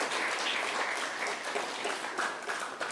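Dense, steady applause from a congregation inside a church during a novena mass, a continuous wash of clapping throughout.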